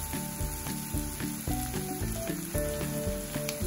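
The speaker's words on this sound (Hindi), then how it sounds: "प्याज को थोड़ा ब्राउन होने तक हमें भूनना है।" Onions frying in a pan for sevai upma, browning with a steady close sizzle and crackle throughout, no voices over it.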